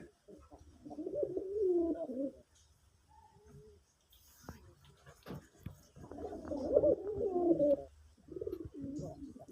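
Red Raj Golla pigeons coo in low, rolling bursts, close and clear, with a pause between calls and a few faint clicks and knocks in the background.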